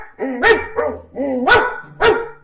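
A dog barks three times in close, loud succession, each bark sharp and tonal with brief whiny pitch glides between, no speech over it.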